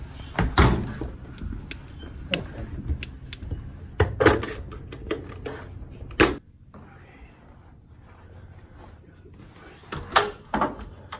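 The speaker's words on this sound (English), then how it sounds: "And close that door too." A door in a house bathroom area is pushed shut amid several sharp knocks and clattering bangs, with loud impacts in bursts and quieter stretches between, and faint voices in the background.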